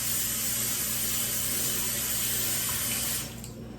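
Water runs steadily from a kitchen sink tap while a cutting board is washed, then cuts off near the end, leaving a quieter background.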